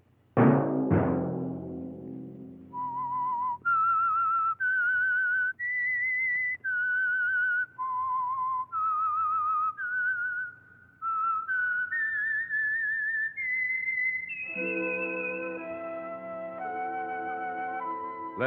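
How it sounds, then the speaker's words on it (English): A single person whistles the signature tune of The Whistler radio show, a slow, eerie melody of sustained, clear notes. The whistling follows sharp opening chimes and ends against a sustained orchestral chord. "Let that whistle be your signal for the Signal Oil program, The Whistler"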